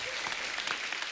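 A studio audience at a comedy show gives a short burst of dense, even applause at a moderate distance.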